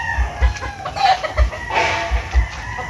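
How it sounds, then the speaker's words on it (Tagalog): Tethered roosters and stag gamecocks crow and cluck outdoors, several birds calling at different distances, with deep low thumps recurring every second or so beneath the calls. "Ang dami rin nakakataling manok na nila."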